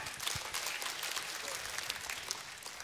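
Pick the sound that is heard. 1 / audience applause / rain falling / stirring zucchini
audience applause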